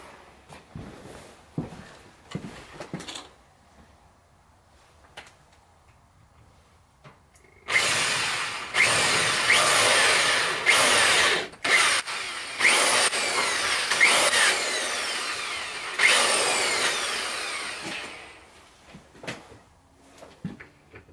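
A power drill whines steadily for several seconds, boring out a bike spacer to about 6.5mm with pauses and restarts, after some quieter handling clatter at the start.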